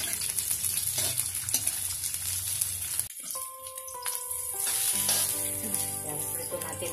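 Onions fry in a pan with a loud, dense sizzle that drops out abruptly partway through, then returns with light clinks and a softer crackle.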